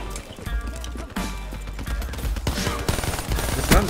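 AK rifle fire in the video game Black Ops 3: dense, rapid gunfire bursts layered with game effects, loud and continuous in the foreground.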